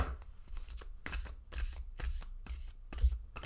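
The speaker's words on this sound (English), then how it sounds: "They want me to shuffle the deck." Cards are shuffled in quick, repeated riffling bursts, close up and fairly quiet, with brief pauses between each pass.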